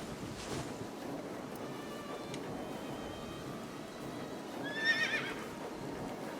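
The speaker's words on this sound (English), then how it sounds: "A horse?" Horse neighing in the video game AI: The Somnium Files, a short whinny rising briefly over steady background ambience.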